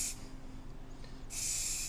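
Spray paint can hissing in two bursts, a short one at the start and a longer, louder one near the end, with a quiet gap between; no talking.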